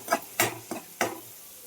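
Onions and curry leaves sautéing for a fish curry: four quick spatula strokes scrape through the pan over a light sizzle, each a short sharp swish.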